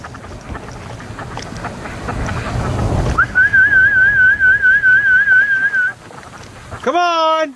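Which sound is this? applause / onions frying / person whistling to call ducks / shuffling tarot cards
person whistling to call ducks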